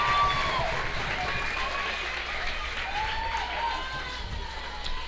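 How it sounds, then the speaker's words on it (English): Crowd noise at a high school baseball quarterfinal, Cedar Park against Buda Johnson, comes through as a sustained roar of cheering and clapping from the stands, steady and moderately loud with a commentator talking over it. "you're going to get a big yell tonight from one big crowd or the other"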